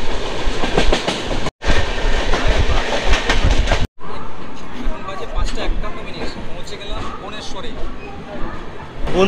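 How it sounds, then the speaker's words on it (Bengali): A Howrah to Puri express train runs steadily after pulling out of Cuttack, its loud continuous rumble and clickety-clack of wheels filling the carriage, with brief cuts and people talking faintly inside. "আমাদের ট্রেন কিন্তু কটক থেকে ছেড়ে দিল"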